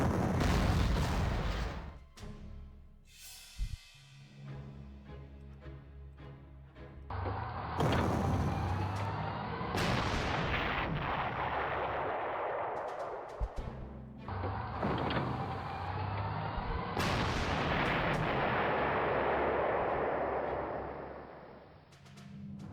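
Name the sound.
submachine gun fire in a World War II video game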